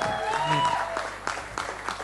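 Audience applause for a film awards project director at an awards announcement event, moderately loud clapping with a few sharp individual claps, briefly overlapping a faint tonal sound at the start.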